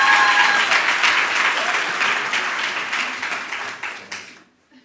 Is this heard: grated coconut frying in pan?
no